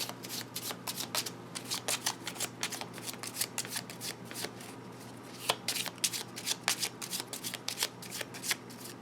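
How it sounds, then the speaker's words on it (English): A deck of Lenormand cards is shuffled repeatedly with riffle shuffles in quick bursts of crisp riffling and flapping, close and fairly quiet, with no talking. "So I'm going to go ahead and shuffle."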